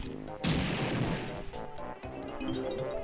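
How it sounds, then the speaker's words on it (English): TNT crate blown apart in Banjo-Kazooie, a sudden loud explosive blast with a crashing rumble that lingers and sputters for a couple of seconds amid game sounds. "I'll go ahead and destroy the TNT crate first"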